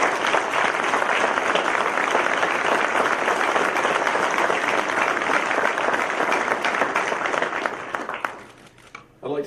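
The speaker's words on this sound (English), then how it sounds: "Let's give them a round of applause." Sustained loud applause from an audience at a 2019 U.S. Army Small Arms Championships awards ceremony, steady dense clapping for about eight seconds before tapering off at the end.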